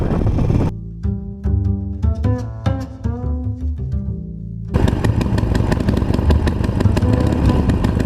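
A Harley-Davidson Nightster motorcycle engine starts up from cold on a winter day, with a few uneven cranking bursts before it catches and settles into a loud, steady idle.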